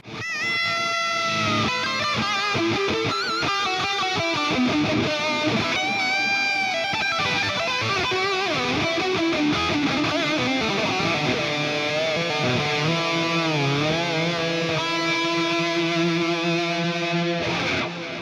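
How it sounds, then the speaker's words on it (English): A distorted electric guitar played through a metal amp simulator plays a sustained melodic lead, notes ringing out and trailing with echoing delay repeats, loud and continuous. "I love using delay on pretty much all of my leads"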